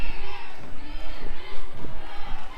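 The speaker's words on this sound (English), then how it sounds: "Crowd chanting for Dragon" A wrestling crowd chants for Dragon, a loud, dense roar of many voices filling the arena steadily with rhythmic swells throughout.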